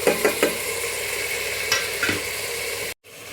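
Chopped tomatoes frying with ginger-garlic paste in a pan make a steady, close sizzle, with a few sharp stirring scrapes, before a brief moment of near silence at the end.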